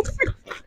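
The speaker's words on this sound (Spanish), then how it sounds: "Y al final se oye como un perrito." A small dog whimpers in a run-down abandoned house, a few brief high whines in quick succession, faint and close, with no voices.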